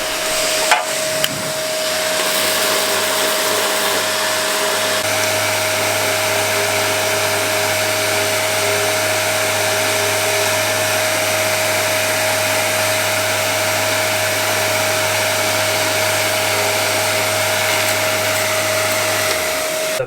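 A power sander works over a mountain bike frame before painting, a loud, steady whine with a constant pitch that runs almost unbroken for the whole stretch before cutting off near the end.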